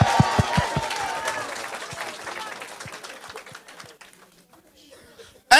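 Applause from a church congregation during a French-language service, loud and dense at first, then thinning and fading over several seconds.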